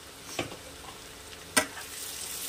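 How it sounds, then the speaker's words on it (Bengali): A paste of ground chili, mustard and cumin frying in a pan for a Bengali fish curry, with a low steady sizzle and two short, sharp scraping stirs, no talking. "এটা একটু নাড়াচাড়া হবে,"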